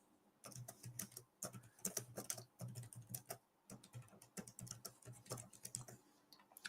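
Rapid typing on the keyboard cover of a Boox Note Air5 C e-reader tablet, with quick clustered keystrokes in bursts and brief pauses, close and fairly quiet with no talking.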